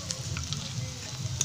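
Ginger-garlic paste and spices, turmeric and Kashmiri chilli powder, sautéing in a pan for egg curry, giving a steady low sizzle with a few faint stirring scrapes, alone without talk.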